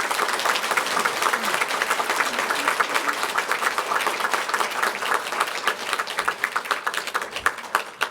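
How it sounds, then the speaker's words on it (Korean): A church congregation gives sustained applause during a Sunday service, a thick, even patter of many hands clapping at a steady level throughout. "인사드릴 때 한영의 박수 부탁드립니다."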